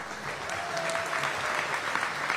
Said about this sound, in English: Aurora, let's give it a round of applause.